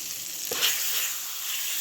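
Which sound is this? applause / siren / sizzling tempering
sizzling tempering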